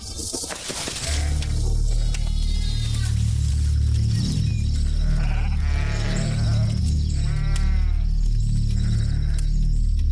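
A flock of sheep bleat repeatedly, with several wavering calls overlapping at different distances over a constant low hum of background noise.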